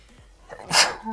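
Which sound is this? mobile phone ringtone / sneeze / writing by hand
sneeze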